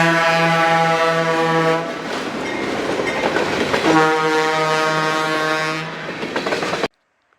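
Train LB1 passes parked Medina E8 locomotives, its horn blaring loud in long chord blasts near the start and again midway, over rumbling wheels and clattering rail noise that ends abruptly.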